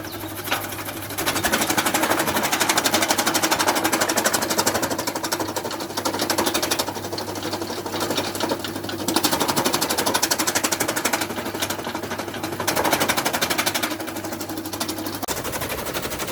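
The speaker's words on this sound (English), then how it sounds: "So we take it to the chaff cutter" Chaff cutter on a dairy farm chopping napier grass, a loud continuous rapid mechanical clatter that surges and eases in waves as grass feeds through, with no voices.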